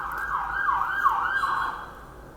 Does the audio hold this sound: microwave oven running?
no